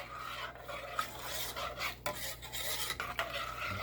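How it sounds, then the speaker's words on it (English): Banana pudding mix with sugar being stirred continuously in a pan on the stovetop, a steady scraping, rasping rub against the pan bottom with brief pauses, close and alone. "It doesn't matter which way you stir it, just keep working"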